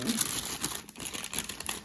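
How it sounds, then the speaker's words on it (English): Parchment paper crinkles and rustles continuously up close as mango chicken is dumped off a sheet pan, with a brief dip partway through. "Now we're gonna dump everything off of the parchment paper."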